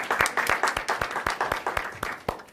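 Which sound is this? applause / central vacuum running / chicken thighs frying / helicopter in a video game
applause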